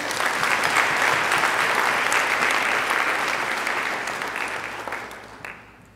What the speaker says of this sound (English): A big round of applause for everyone here.